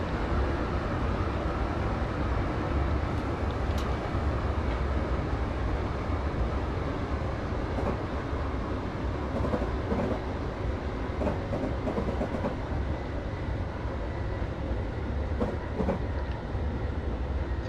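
A Class 325 electric train in Train Sim 2018 rumbles steadily while braking on the run from Hayes & Harlington toward Paddington, a continuous loud low drone with faint clicks and rattles throughout.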